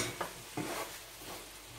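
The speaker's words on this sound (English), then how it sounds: "So now I'm gonna tip in my pasta. My spinach pasta gonna go in there." Spinach pasta tipped into a pan of seafood sauce: two soft, quick thuds followed by faint stirring and a low sizzle, quiet and close.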